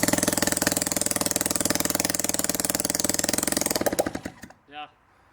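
Home-built rotary engine running steadily with a fast, loud rhythmic exhaust pulse that slows and cuts out near the end, leaving brief quiet and a short faint noise.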